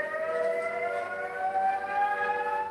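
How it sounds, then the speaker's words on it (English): A flood siren in Appleby, Cumbria wails at night during flooding. It holds a steady, loud, continuous tone that drifts slowly upward in pitch, with no voices. "The ominous sound of a flood siren in Appleby in Cumbria last night."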